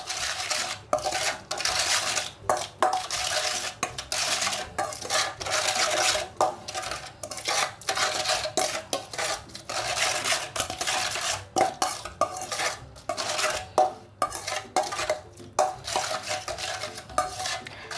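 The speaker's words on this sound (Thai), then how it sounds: "แล้วก็ทำการผสมค่ะ ผสมให้น้ำตาลละลายเลยนะคะ" Sugar being stirred in a bowl until it dissolves for a Thai Chinese-sausage salad, with a continuous scraping of a spoon against the bowl and frequent light clinks, steady and close throughout.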